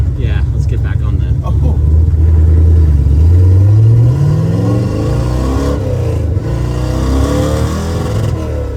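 A Hellcat-supercharged LS engine in a tow truck revs and pulls on a road test drive, loud and close, its pitch climbing then settling as the truck accelerates, with people talking over it.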